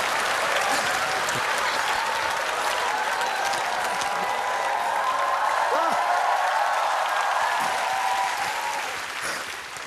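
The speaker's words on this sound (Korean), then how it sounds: "박수 치지 마라" Steady applause from a comedy show studio audience fills the whole stretch, dense and continuous, with crowd noise and some talk mixed in, fading slightly at the end.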